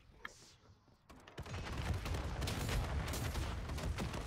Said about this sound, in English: All I hear are explosions right now.